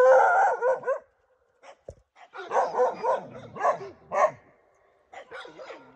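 A Kangal dog barks outdoors, with a short burst and then several spaced, rough barks and yips at moderate distance, separated by quiet gaps.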